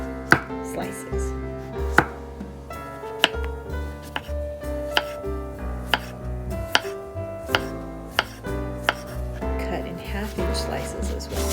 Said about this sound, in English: we're going to use zucchini, and we're going to cut it in 1/2-inch slices.